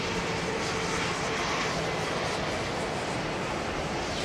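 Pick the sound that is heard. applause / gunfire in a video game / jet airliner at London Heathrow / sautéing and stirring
jet airliner at London Heathrow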